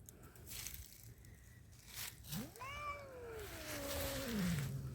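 A single drawn-out cat meow outdoors, rising then slowly falling in pitch, heard close against a low background hum and faint rustling.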